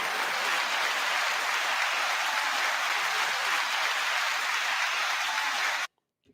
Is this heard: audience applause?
yes